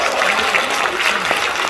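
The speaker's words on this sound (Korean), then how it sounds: "이분들 박수 한번 주세요." Audience at a personal branding seminar giving brief, dense applause, a steady wash of clapping from many hands.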